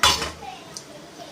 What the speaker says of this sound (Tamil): பாஸ்தாவை போட்டு கிளறி விட்டுறோம்.